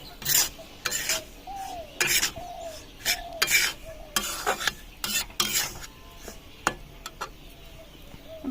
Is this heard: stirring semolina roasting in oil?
yes